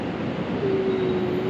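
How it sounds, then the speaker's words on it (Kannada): A metro train pulling into a station, a steady rumbling roar with a sustained high tonal whine rising in from the middle, loud and close, no talk. "ಬಂತು ಮೆಟ್ರೋ."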